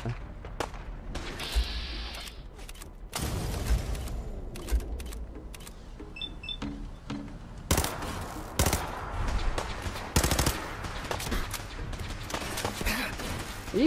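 Bursts of gunfire in the video game Fallout 4, scattered shots and rapid volleys amid game effects and clatter, fairly quiet overall.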